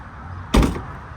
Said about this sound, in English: simply put the ramp back here, latch it into place, shut down the trunk lid